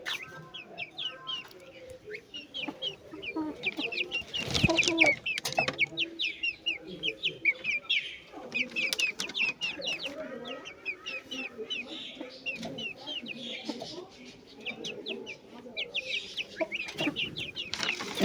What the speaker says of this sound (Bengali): হাঁস মুরগিগুলো দেখেন।